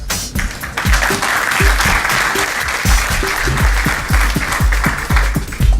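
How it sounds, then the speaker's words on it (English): An audience at a Hyperloop Transportation Technologies tube unveiling in Toulouse claps for the company's chairman, a loud, close round of applause over a rhythmic thumping beat of music. "Please give him a warm round of applause."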